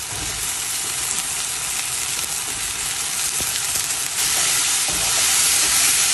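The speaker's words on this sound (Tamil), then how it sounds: "இப்போ தக்காளி கூட இப்போ வெண்டிக்காயை போடணும்" Okra sizzles and fries with tomatoes in a hot pan, a loud continuous hiss with occasional stirring scrapes, growing slightly stronger toward the end.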